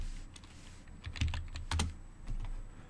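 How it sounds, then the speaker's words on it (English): Fingers type on a computer keyboard, a short run of soft close keystrokes with a few louder taps, quiet and alone over a faint steady background hum. "So we type it again."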